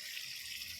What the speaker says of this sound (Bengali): ভালো করে জল দিয়ে দিচ্ছি